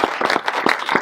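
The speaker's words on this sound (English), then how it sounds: "let's give sir a big round of applause" An audience applauds a retiring CEO at a farewell gathering, with dense, steady clapping from many hands that stays close and even for about a second, with no voices over it.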